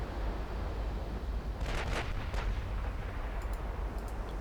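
Naval guns of a warship firing a broadside in Ultimate Admiral: Dreadnoughts, a few deep booming reports rolling together midway over a constant low rumble of sea and engine noise, with faint sharper pops toward the end.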